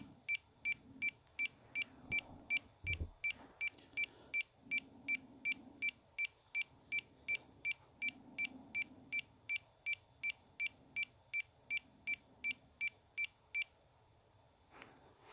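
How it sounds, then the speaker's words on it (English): A fast series of short, high electronic beeps from a DJI drone remote control during failed linking repeats steadily for over ten seconds, then stops; faint handling noise underneath. "Hit retry, it's beeping"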